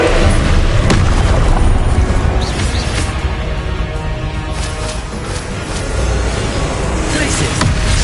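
Confringo explosive spell blasts in a Hogwarts wizarding video game, a dense, loud, rumbling wash of booms and thuds that fills the whole stretch with hardly a break.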